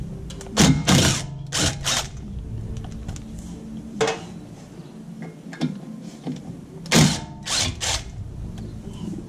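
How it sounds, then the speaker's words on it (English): A 5mm hex key works bolts loose to free the brake rotor on a BMW E46 M3, giving close, sharp metallic clicks and ratcheting clanks in irregular bursts with short pauses between. "to take the rotor off, I'm using a, I think this is a 5mm hex."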